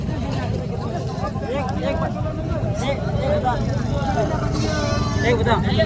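Goats bleat repeatedly at a livestock market in Mirpurkhas, with several wavering calls rising over busy crowd chatter and background traffic.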